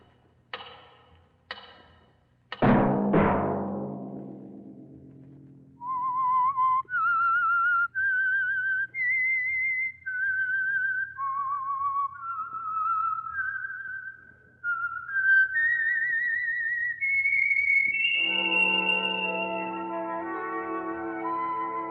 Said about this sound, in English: Let that whistle be your signal for the Signal Oil program